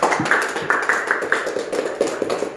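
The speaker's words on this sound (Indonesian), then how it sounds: "Tepuk tangan dulu." Brief clapping from a school teacher-training session audience, with a short run of sharp, fairly close claps, uneven rhythm and no talking.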